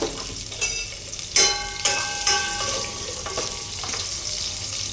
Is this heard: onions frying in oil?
yes